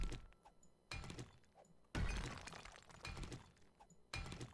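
Stone being broken while mining in the game 7 Days to Die: three sharp crunching, shattering impacts a second or two apart, each followed by a short rattling tail, fairly close and with no talk.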